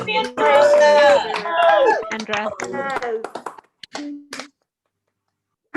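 Scattered claps from Zoom participants at a Health and Human Services hero awards ceremony, mixed with overlapping cheering voices, then trailing off into a few isolated claps and silence.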